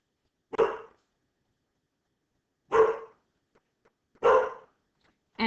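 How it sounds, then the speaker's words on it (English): Dogs give three isolated barks spaced a couple of seconds apart, nearby and clear, with a fourth bark cut off at the end and faint small noises in the quiet gaps. "you're getting to hear my dogs bark"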